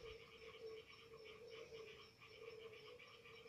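Frogs croak near a rock where bats roost at night, a steady chorus of pulsing calls repeating in faint, continuous rhythm against a quiet background.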